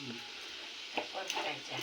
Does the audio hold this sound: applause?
no